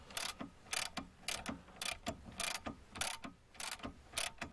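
A ratchet wrench turns the nut of a car's stabilizer bar link, clicking in about ten regular bursts, close and fairly faint, with no talking.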